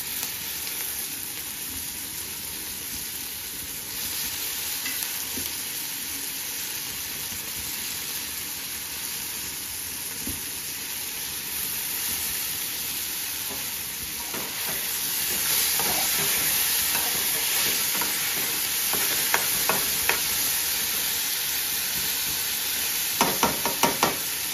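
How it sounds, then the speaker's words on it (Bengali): Tomatoes fry with onions in a pan, a steady close hissing sizzle running throughout, growing louder and busier in the second half as a spatula stirs with occasional light clicks, no talk. "পেঁয়াজের মধ্যে এখন টমেটো ছাড়িয়ে দিন।"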